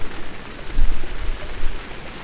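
Rain falls in a steady, close patter on a turkey hunting blind beside a pasture in Franklinville, New York, in spring, with low gusty rumbles underneath and no voices.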